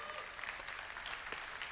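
A small crowd at NVIDIA's CES 2025 keynote claps sparsely, a thin, faint patter of scattered hands under room ambience, with a voice faintly present.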